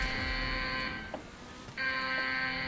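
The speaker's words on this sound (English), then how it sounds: "Oh god, that alarm is very loud." A loud electronic alarm in GTA V blares as a sustained buzzing tone, cutting out for under a second midway and then resuming at full strength.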